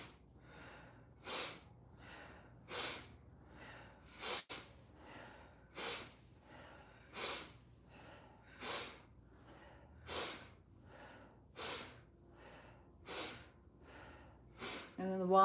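Rhythmic forceful breath pumps from a single nearby person doing a breathing exercise, about a dozen sharp snort-like exhales repeating roughly every one and a half seconds over a quiet background.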